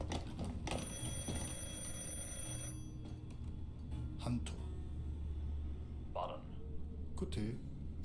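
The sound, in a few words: telephone ringing in the video game Beholder 3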